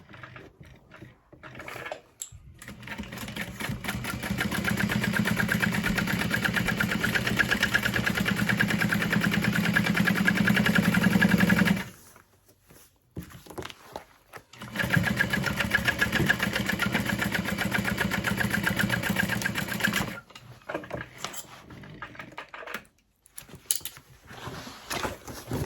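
A sewing machine top stitches along a tote bag edge, its motor humming in two long, steady runs that are separated by a short pause, with brief stops and starts near the end.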